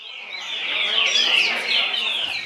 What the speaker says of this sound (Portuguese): Este coleiro, chamado Chaveco, ganhou na sua roda.